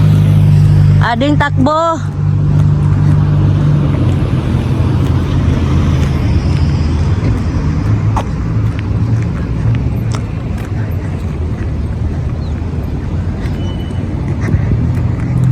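A vehicle passes on the road near Parc de Torreblanca, Barcelona, its steady loud engine and tyre rumble filling the scene while people talk over it.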